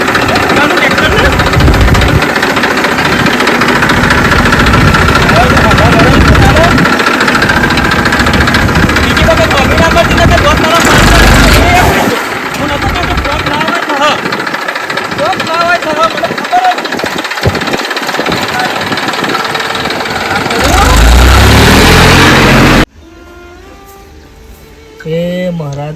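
A tractor engine idles with a loud, rough, steady chugging that fills most of the clip before cutting off abruptly near the end, leaving quieter background sound.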